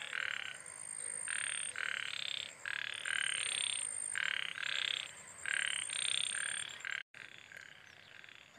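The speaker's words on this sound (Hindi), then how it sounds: "सुने, मेंढक की आवाज है ये।" Frogs croak in repeated rhythmic bursts, a steady outdoor chorus with a high ringing insect-like tone above, continuing with brief pauses.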